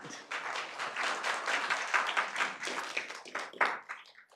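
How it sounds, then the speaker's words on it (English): Audience applause at a council and stadium authorities public meeting, a steady burst of many hands clapping close by that swells and then thins toward the end. "so he gets the claps"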